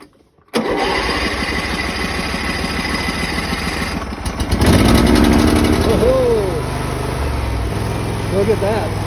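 A Briggs and Stratton small engine, hand-choked and fitted with a new starter, cranks and catches, then runs steadily and loudly up close, with a person talking over the running engine.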